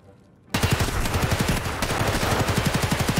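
Automatic gunfire in Escape from Tarkov erupts after a brief quiet moment, then runs as a loud, continuous rapid burst of close shots in a tight, even rhythm.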